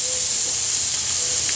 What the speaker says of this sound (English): you can tell it's good and hot when you hear that sizzle